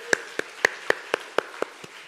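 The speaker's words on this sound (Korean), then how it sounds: "하나님께 영광의 박수 올려드립니다." A church congregation claps at a Christmas service, eight sharp evenly spaced claps in a steady rhythm, clear and close against a quiet room.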